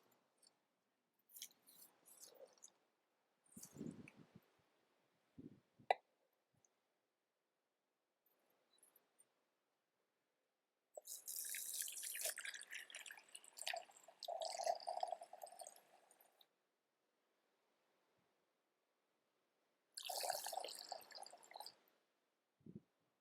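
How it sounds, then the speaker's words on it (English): Cold water poured into a well in flour while mixing bread dough, heard as short, faint splashes and wet squelches in separate bursts with quiet gaps, close by. "I'm going to start adding this water to it."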